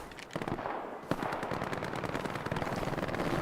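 Machine gun fire from the World War II shooter game Hell Let Loose rattles in rapid bursts of sharp shots, fairly close and steady throughout the short stretch, with no voices.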